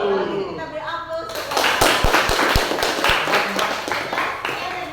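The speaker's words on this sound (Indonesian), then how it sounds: "Kalau gitu kita beri aplaus." A group in a classroom claps together in a short burst of applause, sharp hand claps rising over lingering talk and fading into scattered clapping.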